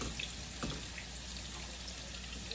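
Water trickles and splashes softly into a cooking pot of beef for caldereta for a couple of seconds, a quiet, steady pour against faint background hum.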